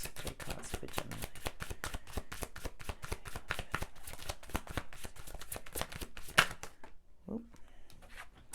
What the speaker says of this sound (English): Flinging cards around.